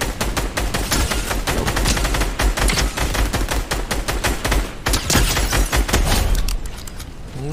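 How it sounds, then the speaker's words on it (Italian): Rapid bursts of automatic gunfire in a Fortnite Battle Royale duos match ring out loud and close, with dense strings of shots running almost without pause before thinning out near the end. "Mi sparano di già, porca miseria."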